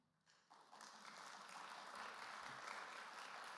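Audience applause at a university state-of-the-university address swells quickly from quiet into sustained, fairly distant clapping that fills a large hall.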